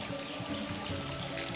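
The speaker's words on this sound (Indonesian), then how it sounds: "Jadi sungainya ini mengalir putih ini ya, agak keruh." A murky white river, clouded by white clay or kaolin sediment, flows into a cave, heard as a steady, close rush of pouring water with no voices.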